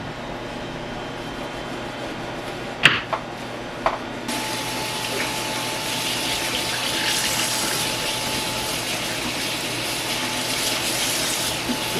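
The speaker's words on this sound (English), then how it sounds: "Rinse this cloth out really well because I want to use it on my counter." A kitchen sink tap runs steadily while a cloth is rinsed under it. A couple of sharp knocks come first, then a continuous close stream of splashing water.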